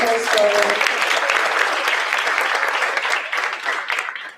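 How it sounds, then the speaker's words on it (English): Audience applause fills a school board meeting, a dense, steady wash of clapping hands that stays loud throughout and tapers only slightly toward the end. "we'll have one more round of applause for her story"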